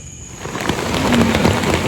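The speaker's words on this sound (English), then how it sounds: "The rain is coming down." Steady rain falls on an SUV while campers shelter inside at High Falls State Park, a dense hiss of drops on the roof that grows slightly louder and carries a few heavier taps.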